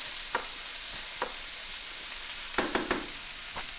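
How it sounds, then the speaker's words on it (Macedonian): Onions fry in a small amount of oil with a steady soft broadband sizzle, broken by a few light clicks and taps of utensils against the pan. "ќе го запржиме убаво кромидот"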